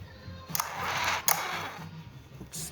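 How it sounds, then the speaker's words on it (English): A recoil starter rope winds back with a quiet scraping rub against mounting hardware, in a few uneven bursts separated by brief clicks and pauses, faint and up close. "It's rubbing on the little indentations for the hardware, the mounting hardware. It makes a little bit of a noise"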